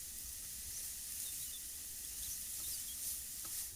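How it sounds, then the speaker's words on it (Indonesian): Sliced celery stirred and cooked in a pan while making lumpia sauce, a steady soft sizzle and hiss running throughout at low level, with faint scraping of stirring. "Aduk sampai rata dan masak bentar aja"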